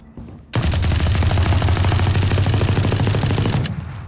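An Odin machine gun in Valorant rattles off a single sustained burst of rapid, evenly spaced shots, loud and close, starting abruptly and cutting off after about three seconds with no talk over it.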